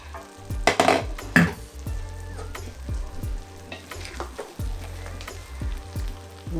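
Jollof rice sizzles in a pot as it is stirred, with a steady frying hiss under repeated scraping and clinking of a spoon against the pot, close and moderately loud, with no talking.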